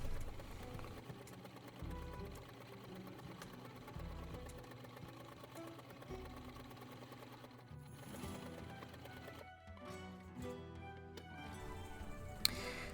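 Sewing machine stitching a Regency corset edge bone on a center back panel: a steady fast mechanical whir with rhythmic ticking, running continuously, pausing briefly and resuming near the end.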